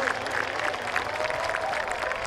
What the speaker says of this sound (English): please hold your applause until I signal a break